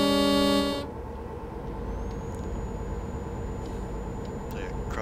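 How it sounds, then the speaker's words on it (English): A truck horn in Euro Truck Simulator 2, a loud harmonic blast sounding like a cross between a fog horn and a train horn, held for under a second and then cut off, leaving engine rumble. "They cross between a fog horn and a train horn."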